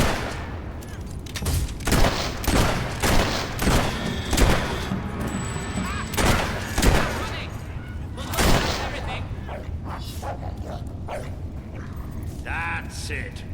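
Gunfire in the Fable 3 game, a dense volley of repeated shots and cracks with mechanical clatter over rumbling noise, while a voice shouts over the din.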